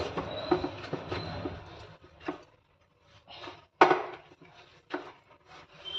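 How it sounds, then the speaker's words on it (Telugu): Chapati dough worked with oil, pressed and squeezed by fingers, giving soft, irregular squishing and slapping bursts with short pauses between them. The sounds are close and moderately loud, and no one speaks. "ఆయిల్ వేసిన తర్వాత మాత్రం మనం బాగా ఒక 5 నుండి 6 నిమిషాల పాటు ఇలా వేళ్ళతో ఒత్తుకుంటూ బాగా పిండిని కలుపుకోవాలి"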